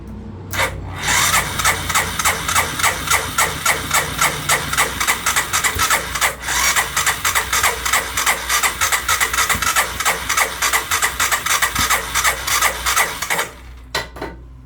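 A 1998 Honda 300 4x4 ATV that has sat for years cranks over steadily for about thirteen seconds without firing: a loud, close, rhythmic starter churn that stops abruptly.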